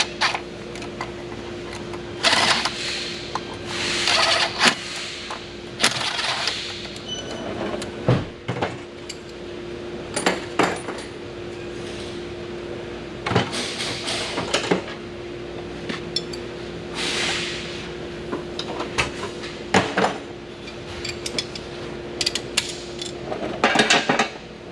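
Metallic ratcheting and clanking as a bolt is tightened on a Genesis GV80 engine during a coolant-loss repair, irregular close-up clicks and knocks repeating through the clip over a steady hum.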